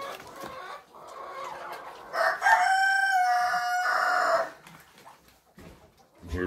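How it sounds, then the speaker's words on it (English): A rooster crows loudly nearby in one long drawn-out call, with softer clucking from other fowl before and after. "And hear those happy roosters doing happy rooster things."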